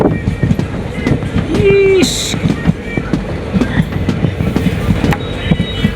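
A moving passenger train in India, steady rhythmic clickety-clack of wagons on rails close by with a brief wheel squeal, while people talk inside the carriage.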